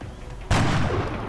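A single sharp sniper gunshot in XCOM: Enemy Unknown bursts out loud and sudden, followed by a booming rumbling tail that lingers and slowly fades.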